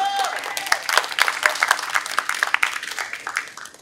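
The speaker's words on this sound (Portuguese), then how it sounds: "Palmas, gente." An audience at a talk on massacres and femicides claps steadily, a loose, moderately close round of applause that gradually thins out toward the end.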